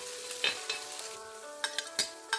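Chopped green chillies sizzle in an oiled pan while being stirred for corn uppuma, a steady frying hiss broken by several sharp scrapes of a spoon against the pan, close by.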